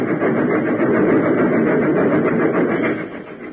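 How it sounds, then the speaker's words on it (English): Train engine roaring steadily as it rushes into a snow shed, a radio drama sound effect; a loud, continuous dense rumble holding level, then easing slightly near the end, with no voices. "Nearer and nearer it came, until finally the engine rushed into the funnel"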